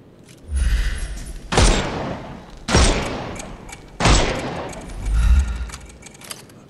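Gunfire in a Sherlock Holmes video game: three loud, sharp shots spaced about a second apart, each with a ringing tail, over low rumbling background ambience.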